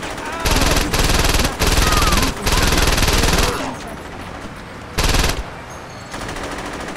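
Assault weapon gunfire in the video game Saints Row 2, loud sustained automatic bursts in several long stretches separated by short gaps, with a final brief burst and quieter game sound between.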